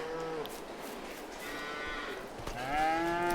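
Cattle moo repeatedly over a steady farmyard ambience, with a louder, drawn-out low call rising near the end, all from livestock in the Farming Simulator 22 game; no talking.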